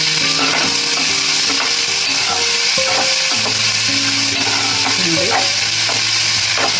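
Chopped onions sizzle and crackle in oil in a pan while cooking upma, a steady loud frying hiss throughout with occasional scrape of a spatula; no talking.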